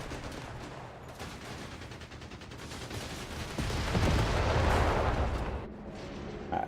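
Mortar and rocket barrages in Company of Heroes 3, a USA versus Germany World War II strategy battle, rumble as dense, continuous booming gunfire that swells louder in the middle, with no talking.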